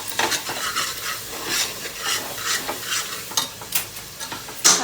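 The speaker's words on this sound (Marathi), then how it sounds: "चांगला मसाला भाजून घेतला." Masala roasts in a pan for a spicy Bhogi mixed-vegetable dish, a soft steady sizzle under repeated scraping and clinks of a spoon stirring against the metal.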